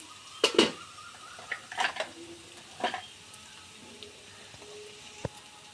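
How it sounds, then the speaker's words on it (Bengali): Onions and chilies frying in a pan give a soft, low sizzle, broken by a few sharp clinks and scrapes of a utensil against the metal, with no one talking. "পেঁয়াজ মরিচগুলো আমার লাল লাল করে ভেজে নিচ্ছি"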